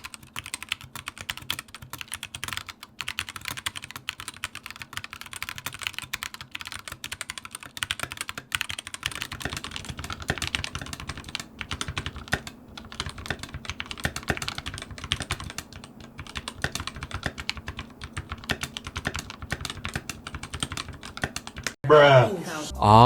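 Continuous fast typing on a mechanical keyboard fitted with lubed Tealios V2 switches, a steady stream of close, muted clacks with a brief louder burst at the very end.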